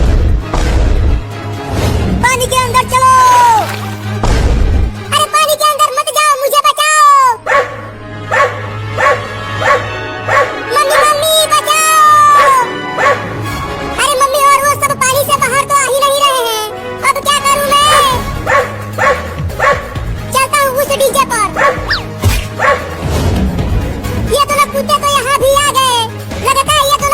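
Two dogs bark loudly and repeatedly near water, sharp yips and barks coming in irregular bursts, with a person talking between and over them.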